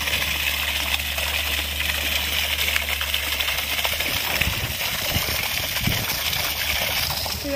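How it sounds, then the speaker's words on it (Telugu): Borewell water gushes out on a farm, a steady loud rushing hiss with a low motor-like hum underneath, continuing throughout without speech. "ఇక్కడ మా బోడి వాటర్ వస్తుందండి."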